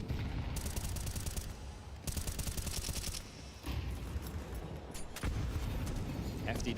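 Heavy grenade blast and continuous gunfire from a Counter-Strike esports match between Natus Vincere and Team Vitality, rolling in loud, dense bursts throughout, with a caster's voice talking over the battle noise.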